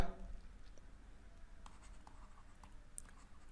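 Chalk or marker scratches and taps on a classroom board in short, faint strokes, close and sparse against a quiet room, with no voice.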